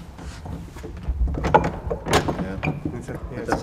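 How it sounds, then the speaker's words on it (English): A squeaky castle-style door latch is worked by hand with a few clicks and short scrapes, heard up close as people talk softly around it. "Listen to the latch on that side."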